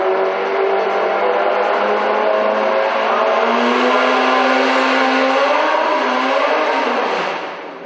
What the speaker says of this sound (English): Someone's trying hard on the revs down below